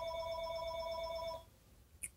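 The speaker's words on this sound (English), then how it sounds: "Of course, the phone has to ring." A telephone rings with one steady electronic trill lasting over a second before cutting off, followed by a faint quiet room and a brief high click, no talking over it.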